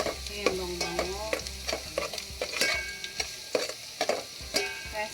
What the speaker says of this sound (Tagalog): Nagigisa. Brown lang natin ang konti.